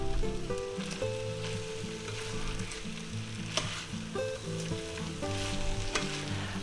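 Shredded carrots stirred into a small hot pan while making a vegan burrito, a continuous loud sizzle and crackle of frying with scraping stirring strokes and a few louder pops.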